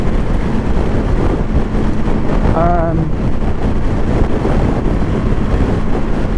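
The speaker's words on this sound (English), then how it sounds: "That was a strong wind." Strong, loud wind roars continuously across the microphone while riding a BMW G310GS motorcycle along a coastal bay road, with a dense low rumble throughout and a brief voice partway through.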